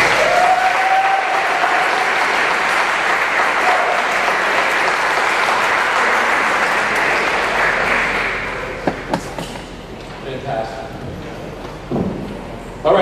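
Sustained applause from an audience at a school board meeting, dense and steady for about eight seconds before thinning into scattered claps and a brief voice toward the end.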